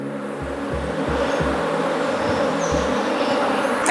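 Honeybees drone steadily in a disorganised, drone-laying hive with poor genetics, a close continuous buzzing hum with a few low thumps, and no voices.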